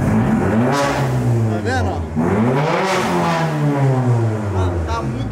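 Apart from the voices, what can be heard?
Mercedes car engine running and revving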